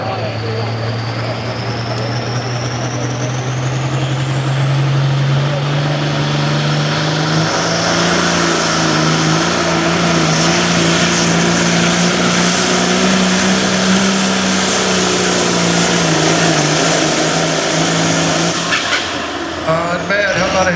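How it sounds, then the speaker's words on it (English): A pulling tractor revs hard at a tractor pull, its loud engine drone climbing steadily in pitch over about twenty seconds and staying close and continuous throughout. "the RPMs are increasing"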